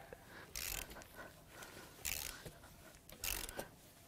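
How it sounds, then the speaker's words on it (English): A puller is cranked down to draw the remains of a pulley off a Cadillac Northstar L37 4.6L V8, giving three loud bursts of ratcheting and grinding at steady intervals, with quieter mechanical clicks between. "And then I just got to crank that down and it should pull the remnants of that pulley off."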